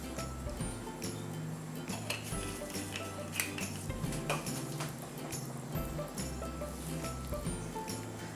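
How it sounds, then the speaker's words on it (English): Repeated scraping and clinking of a spatula against a container while mixing soap batter, a busy irregular rhythm of stirring knocks that continues throughout. "I always like to mix my fragrances in with a spatula"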